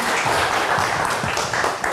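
A studio audience on a live Indonesian variety show applauds, a continuous burst of dense clapping and crowd noise with a few faint voices mixed in.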